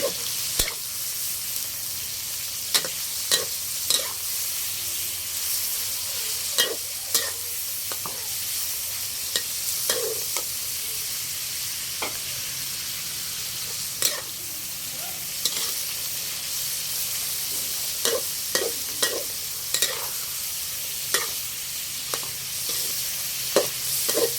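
Shrimp fried rice with minced pork stir-fried in a pan, a steady sizzle running throughout with frequent sharp scrapes and clanks of the spatula, close and alone.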